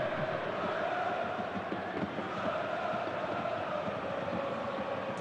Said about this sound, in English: Crowd shouting his name.